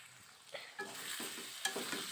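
Dry rice flour and turmeric frying in a pan for aloo dum, a close crackling sizzle with a few distinct scrapes and knocks of a stirring spoon, short and uninterrupted by talk.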